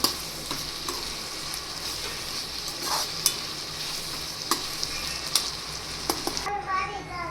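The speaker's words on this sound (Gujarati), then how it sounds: "હવે ગેસની ફ્લેમને મીડિયમ રાખી અને આપણે તેને પાંચક મિનિટ માટે કૂક થવા દેશું" Shredded cabbage and carrot sambharo fries in a pan over a medium flame, giving a dense, continuous sizzle with faint stirring taps near the end.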